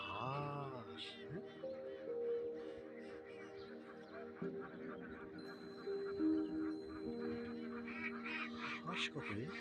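Ducks at a farm beside a lake in Jashore, Bangladesh, honk and quack repeatedly and close by across the whole stretch, a busy overlapping flock with little pause.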